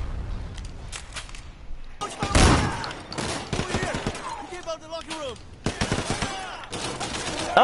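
Gunfire during a shootout in the video game Sleeping Dogs, sharp bursts and machine-gun volleys that come and go, loud and close, with a player talking over the action.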